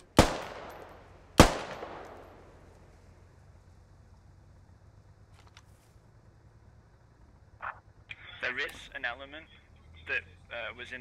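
Two sharp gunshots from the video game SquadOps crack loudly near the start, each trailing off in a long echo, followed later by bursts of radio-like chatter and clicks.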